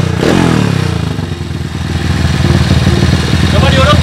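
A Honda CB 125 race motorcycle with the engine bored out to 150 cc, loud and close, revving hard with a throaty, pulsing exhaust that dips briefly then climbs again, overwhelming everything else.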